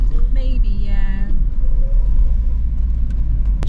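A Volvo 940 classic car's engine hums and rumbles at speed on the road, a steady cabin drone with a brief tonal whine near the start.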